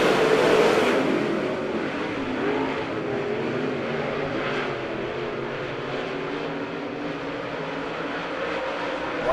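Race cars accelerating as a pack at the green flag in a heat race at Monett Motor Speedway, a loud sustained engine roar that surges at first, then holds as a steady dense drone.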